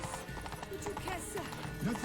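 Horse hooves clip-clop at a steady gait in The Witcher 3, a rhythmic clatter running the whole clip beneath game music, ambience and brief vocal sounds.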